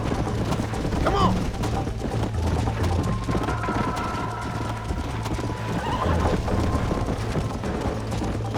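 In a Western video game, a horse neighs and whinnies while its hooves clip-clop steadily, with a rider urging it on over continuous ambient noise.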